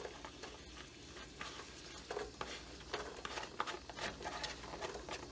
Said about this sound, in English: I'm gonna go ahead and add the onions in.